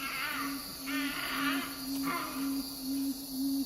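Summer insects and crickets in dry eastern Tasmania chirp in steady repeating pulses with a buzzing drone over them, continuous and fairly close, with no voices.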